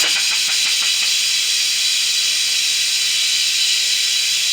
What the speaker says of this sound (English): And then I'm going to turn this button, this little lever, so let out the steam.